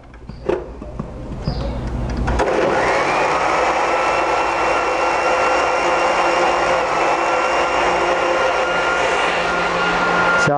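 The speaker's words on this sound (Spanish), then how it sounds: "Y esto lo vamos a regresar a la licuadora. Que se muela un momento." A kitchen blender grinds a salted mixture for a Mexican dish, starting after a brief click and then running as a loud, steady motor whir and churn that holds without a break to the end.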